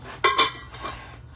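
Metal pots being put away clink and clatter in a couple of quick, close knocks followed by a softer rattle.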